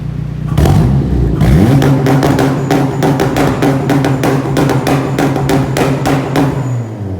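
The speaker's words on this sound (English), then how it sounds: "it's got launch control, so I'll show you a little exhaust gun." Turbocharged 400 bhp Honda Integra DC5 on launch control: loud, close engine held at high revs with a rapid, regular string of sharp exhaust pops and bangs over several seconds before it drops off.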